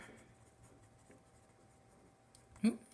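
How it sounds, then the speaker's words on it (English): Pen writing on paper while working a math problem, soft faint scratching strokes through a quiet room, ending in a couple of louder taps or knocks. "I had to write a little curve"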